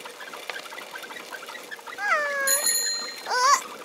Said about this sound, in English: being safe by ringing his bell as he approached